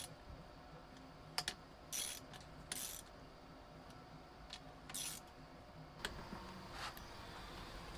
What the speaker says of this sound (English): So I grab just a wrench and just go like really light